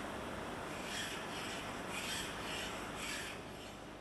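A hand file rasping across metal in repeated strokes, each pass a steady broadband scrape, close and fairly quiet with no voices.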